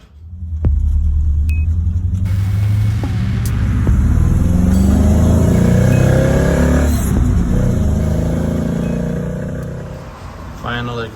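A deep, rumbling Corvette C3 engine with a swapped drivetrain revs up close, its throaty exhaust droning loudly and steadily throughout with a few surges in pitch.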